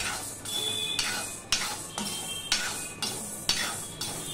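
Urad dal frying in a hot pan, with a spatula scraping and clinking against the metal in an even rhythm about twice a second over a faint background hiss.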